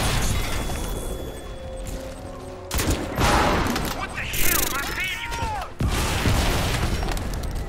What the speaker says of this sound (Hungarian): grenade launcherekkel lövöldözték egymást